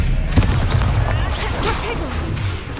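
Expelliarmus spell cast in Hogwarts Legacy, a loud burst of magical whooshes and booming impacts lasting a few seconds, dense and close, with battle effects crackling throughout.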